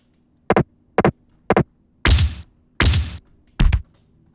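Three short dull thuds in a steady rhythm, then two longer crunchy impacts and a final short hit, a set of game-style blocking effects, with no talking.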